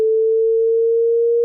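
A pure 400 Hz sine test tone, a single steady and clean pitch held at constant loudness for about a second and a half, then cut off abruptly.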